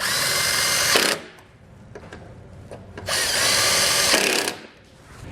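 Power tool driving button head screws into weld nuts while mounting Westin Platinum Series oval nerf bars: two loud sustained whirring bursts, about a second each, separated by a quieter pause with faint clicks.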